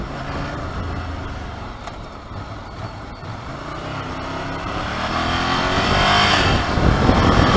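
Ducati Monster 797 motorcycle engine running, a loud continuous drone whose pitch climbs as it revs toward the end, heard on the move with wind noise and no talking.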